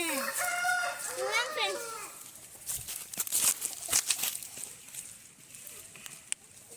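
A rooster crows loudly and close by at a poultry breeding farm, its long call filling the first two seconds, followed by scattered clucking and rustling farm noise.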